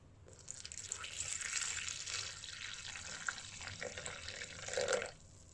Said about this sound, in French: je mets 50 grammes de farine, voilà, j'ajoute 300 millilitres d'eau.